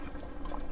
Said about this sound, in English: So we're gonna let that simmer again.